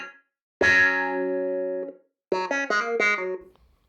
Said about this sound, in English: and that's pretty drastic, the amount of room reverb.